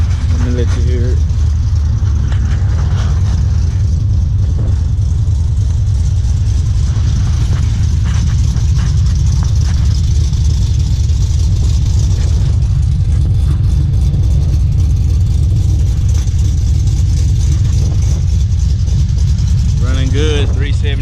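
A truck engine with nitrous valve springs and a 373 rear end runs loud and close, a dense low rumble with a few revs rising near the start and end.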